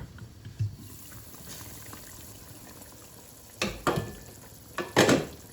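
Charsi meat karahi sizzles steadily in a pan, half cooked with some liquid still in it, while a spoon stirs it in a few brief scraping strokes near the end.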